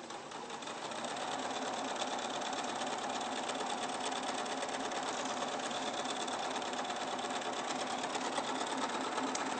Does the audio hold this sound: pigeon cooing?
no